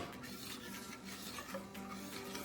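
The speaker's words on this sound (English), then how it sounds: "with grits, you gotta stir and stir and stir" Grits are stirred in a pot with a continuous scraping, swishing churn against the pot. It is close and fairly soft and stays steady throughout, with no talking.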